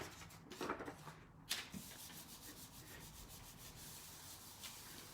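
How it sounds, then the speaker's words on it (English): A brayer rolls leftover paint across a gel printing plate, giving a soft, faint rubbing hiss with a couple of sharper scrapes near the start, then a steady low rolling texture. "I'm just gonna brayer on the leftover paint and see if I can't pull some of that off."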